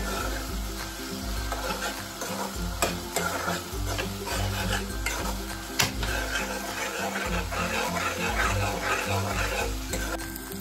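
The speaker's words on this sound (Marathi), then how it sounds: "आपण इथे थोडंसं टमॅटो आता छान फ्राय करून घेऊयात" Chopped tomatoes frying in oil for a chole curry, with a continuous sizzle and occasional scraping stirs. Background music plays steadily throughout.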